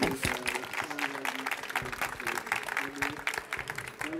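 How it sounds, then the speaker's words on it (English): A conference audience applauds a speaker being welcomed onstage at a hacker-themed talk, a dense and steady wash of clapping that lasts throughout, with a voice briefly audible over it. "So a round of applause for KEREN ELAZARI."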